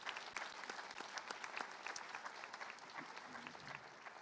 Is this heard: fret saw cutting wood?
no